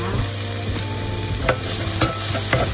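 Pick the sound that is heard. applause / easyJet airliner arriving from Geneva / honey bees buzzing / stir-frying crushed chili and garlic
stir-frying crushed chili and garlic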